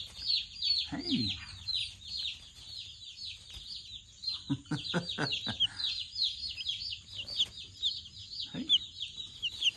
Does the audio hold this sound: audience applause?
no